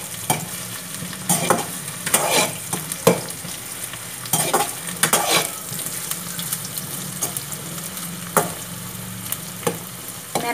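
Sliced onions stir-fry in a pan for vegetable macaroni, a continuous soft sizzle broken by repeated spatula scrapes and clattering stirs at close range, with no talking.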